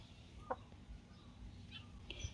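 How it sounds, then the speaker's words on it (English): A chicken clucks faintly in the background, a few soft scattered clucks over low ambient noise. "Chicken."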